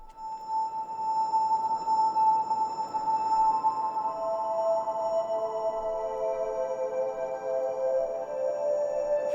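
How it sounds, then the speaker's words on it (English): Spacious synth tones processed through the standard Ableton Live reverb with the decay turned up, sustained notes blooming into a long, washy tail that holds steadily throughout with no talking. "The reverb I'm going to use is just the standard Ableton reverb here."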